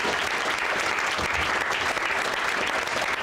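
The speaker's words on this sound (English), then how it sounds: "So let's give Pat a big round of applause." An audience at a community gathering breaks into sustained applause, dense steady clapping from many hands filling the room at an even level throughout, with no voices rising above it.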